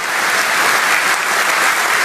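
A Brexit Party rally crowd in Durham claps and cheers in a loud, continuous, dense roar of applause.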